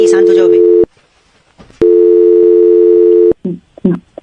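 Phone line during a prank call gives two long steady ringback tones, each lasting about a second or more, with short bursts of talk before, between and after them.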